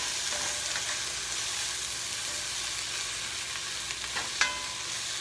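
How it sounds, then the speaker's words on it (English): Onions and carrots frying in oil in a pot while being stirred: a loud, steady, close sizzle runs throughout, broken by a faint scrape or two near the end, with no talking. "I'm gonna be throwing in my onions and my carrots, and I'm gonna stir that in."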